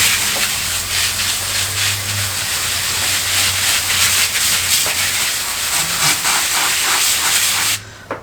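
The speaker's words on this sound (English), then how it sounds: "it's actually kind of a lot of work to pull the garden hose all the way over here. So it's on the mist setting right now." A garden hose nozzle on its mist setting sprays water over small avocado plants, a steady close hiss running for several seconds before cutting off abruptly at the end.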